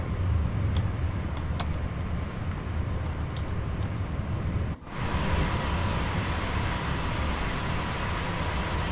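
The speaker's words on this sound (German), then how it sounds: "Hey, da fährt sogar ein Zug lang, seht ihr das?" A train passes in the Train Sim World 2 game, heard from inside a FLIRT RABe 523 passenger unit on the Luzern–Sursee line as a continuous loud rolling rumble with a sudden brief dip midway.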